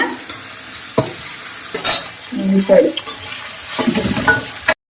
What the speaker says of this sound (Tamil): தக்காளியும் நல்லா வதங்கணுங்க.